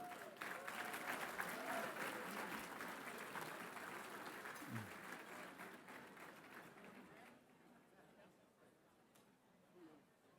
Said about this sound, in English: How about a round of applause for the PTF award winners?